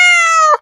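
A cat gives a single loud, drawn-out meow close by, ending abruptly, with no other sounds around it.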